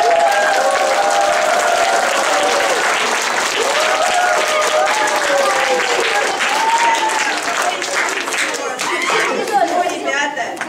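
Warm applause from an audience at a children's theatre studio performance of Teremok, dense rhythmic clapping throughout with voices calling and chattering over it, loud and close.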